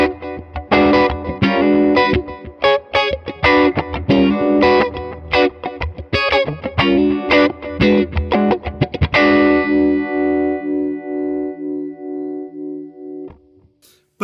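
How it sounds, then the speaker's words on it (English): Electric guitar played through a Voodoo Labs Micro Vibe Univibe pedal, funky rhythmic chord stabs in E with a throbbing, warbling modulation, then a sustained chord ringing out and slowly fading, close and alone. "I'm going to go with the Univibe sound, and I'm going to do that with the Micro Vibe from Voodoo Labs."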